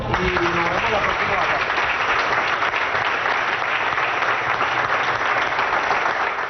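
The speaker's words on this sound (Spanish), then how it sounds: "un aplauso para todos" Sustained applause from an audience of oil-company workers at a closing event, steady and dense clapping holding at full level throughout, with a brief voice at the very start.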